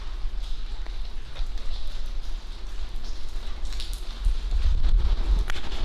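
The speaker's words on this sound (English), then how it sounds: "The rain coming in." Steady wash of rain coming into an abandoned clothing factory, a broad hiss and scattered drops, low rumble underneath, growing a bit heavier toward the end; no talking.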